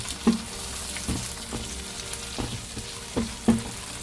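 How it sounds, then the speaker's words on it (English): Onions frying in a pan for prawn biryani, with curry leaves and tomatoes nearby: a steady close sizzle under a series of sharp clinks and knocks from stirring, with no one speaking. "So as the onions are being fried"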